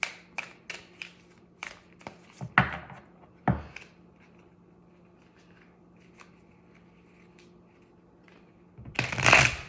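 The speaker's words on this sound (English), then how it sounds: "Let's pull one last oracle card here." Oracle cards shuffled and drawn by hand: a run of crisp, separate card taps and flicks up front, a quiet stretch with faint rustles, then a dense burst of riffling at the end, close and soft.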